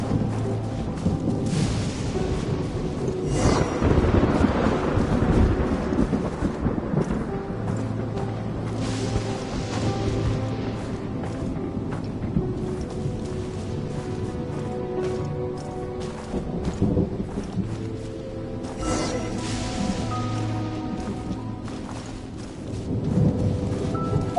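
A Genshin Impact thunderstorm with steady rain hiss, several rolling thunder rumbles, and a louder crack midway, continuous and immersive with no talking.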